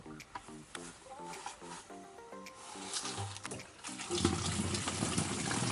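Water gushes steadily from a pipe or tap under pressure, growing louder toward the end, with faint background sounds.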